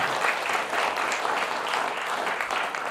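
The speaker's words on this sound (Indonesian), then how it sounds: "Tepuk tangan dong semua." Steady audience applause from a crowd at a talk or seminar, dense and continuous clapping at a moderate distance for about three seconds, with no voices rising above it.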